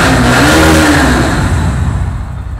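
Bajaj Pulsar N160 motorcycle engine idling and revving in a showroom, a loud, steady close-up drone with a rising and falling rev near the start, continuous throughout.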